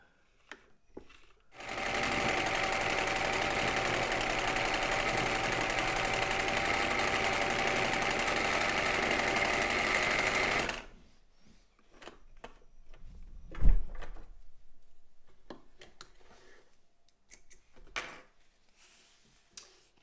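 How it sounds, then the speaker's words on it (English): A Singer 319 sewing machine fitted with a 15x1 needle runs steadily for about nine seconds with a fast, even mechanical whir. It then stops, followed by scattered handling clicks and a thump. "It's now sewing its full pattern width with a 15 by 1 standard needle"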